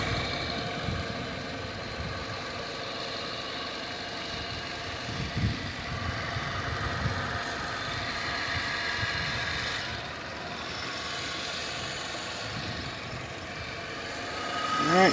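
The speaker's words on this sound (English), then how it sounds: "engine's been surging a little bit" A Nissan Altima, freshly fitted with a new catalytic converter assembly, idles with a steady low rumble and mild rises and falls in engine speed, ending in a brief louder swell.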